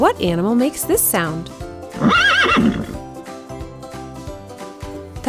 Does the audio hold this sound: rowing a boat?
no